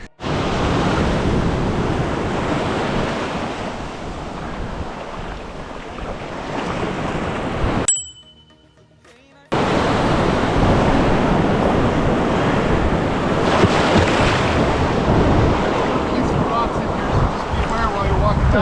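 Ocean waves at Casper Beach in Northern California roll in as a loud, continuous broadband wash with heavy wind buffeting the microphone, cut by a brief near-silent gap before the surf noise resumes.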